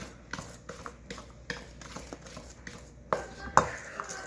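Brownie batter with flour being mixed in a bowl at home, a series of soft close scrapes and taps with a couple of sharper knocks near the end.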